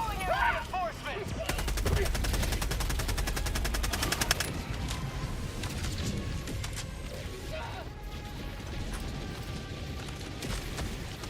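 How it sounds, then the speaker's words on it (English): Sentry turret gunfire in Helldivers 2, a rapid stuttering stream of shots within a loud, chaotic battle full of crashes and blasts, with a player talking over the din. "Calling down a sentry."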